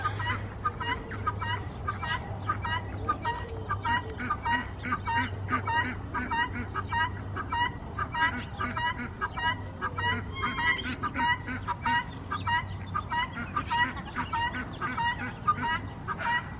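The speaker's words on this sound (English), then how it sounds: "Getting noisier, my guineas." A flock of four guinea fowl call continuously on a farm alongside ducks, turkeys and hens, a dense stream of harsh, rhythmic, repeated honking cries close by, with a low steady hum underneath.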